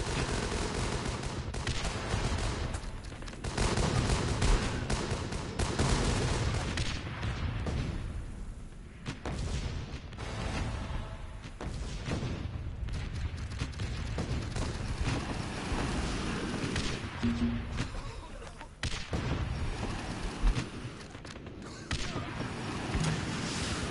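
Sustained heavy gunfire and explosions in the wave-defense game Guns Up, a dense, continuous barrage of shots and booms with a few louder slams, people talking faintly beneath.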